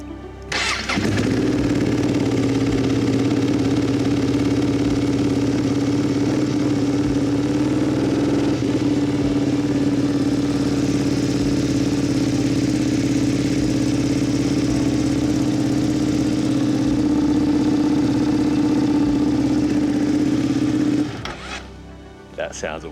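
A Ducati Panigale V2 motorcycle, crash-damaged and rebuilt, cranks and fires up, then settles into a steady, throaty, deep idle that holds loud and close for about twenty seconds before cutting off.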